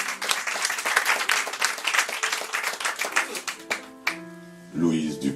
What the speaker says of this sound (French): Joséphine Bacon, on l'applaudit, mesdames et messieurs.